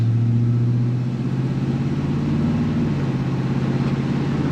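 A Chevrolet C10 pickup truck's engine pulls away after braking to a stop, giving a close, steady, low droning note that dips briefly and then settles into an even hum.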